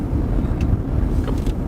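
A Genesis GV80 3.0 diesel SUV accelerating, heard as a steady, smooth low engine drone with a constant loudness and no voices.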